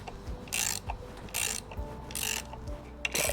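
A threaded rod is turned to push the transfer case bushing out of a BMW G01 X3, making a ratcheting, clicking wrench sound in short bursts with quiet pauses between them.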